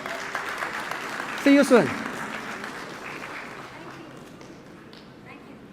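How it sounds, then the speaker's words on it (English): Audience applause at the OPPO F3 Plus smartphone launch event swells briefly after a closing line from the stage, with a spoken voice heard over the steady crowd noise before it fades. "could we have a huge round of applause?"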